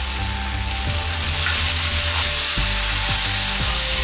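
Tomatoes hit a hot pot for chicken biryani with a loud, continuous frying sizzle, joined by a few scraping stirs near the end and a steady low hum beneath.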